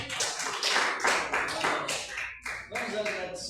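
A church congregation claps together during a worship service, rhythmic rounds of hand claps with voices speaking and calling out over them in a reverberant hall.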